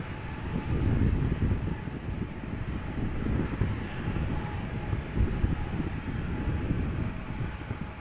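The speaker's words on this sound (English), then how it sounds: "SAS flight 552 CRJ 900 long range, 14 years old, first flight January 2009, destination Copenhagen in Denmark." An SAS CRJ900 long-range airliner passes at Amsterdam Schiphol as a steady, broad roar and rumble that holds throughout, with wind buffeting the microphone.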